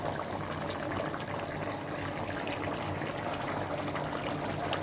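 A fish curry with potato, eggplant and tomato bubbles in the pot, making a dense, continuous close simmer with no talking.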